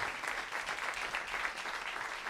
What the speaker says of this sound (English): So just a round of applause to Jon Beebe.